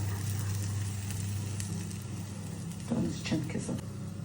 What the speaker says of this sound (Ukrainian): він вже яйко смажиться з другої сторони